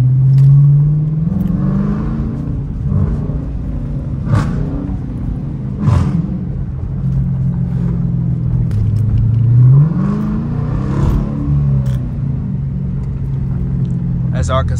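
Dodge Challenger R/T in track mode accelerating down a street, engine rumbling and rising in pitch through several gear pulls, recorded from inside the car with someone talking over it.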